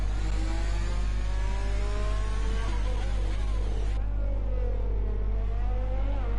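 An F1 race car in the F1 2020 video game on the Australian GP circuit, its engine revving and whining through the gears with rising and falling pitch over a constant low drone.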